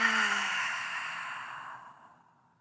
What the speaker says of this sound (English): One more exhale out of the mouth.